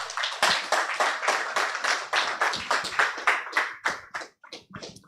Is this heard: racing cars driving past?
no